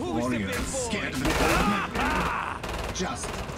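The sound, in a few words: gunfire in the video game Killing Floor 2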